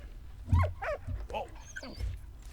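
A dog in the video game Valiant Hearts: The Great War gives a few short barks and whimpers close by, mixed with game sounds under a low background.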